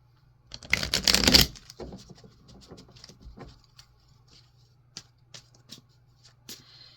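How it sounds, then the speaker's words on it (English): Tarot cards from the Universal Waite deck are shuffled in a quick, dense riffle up close, followed by softer scattered taps and slides as cards are drawn and laid down; no talking. "I'm going to draw some clarifier cards."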